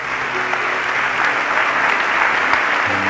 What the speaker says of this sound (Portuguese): Alguém pode dar um aplauso bem forte a Jesus?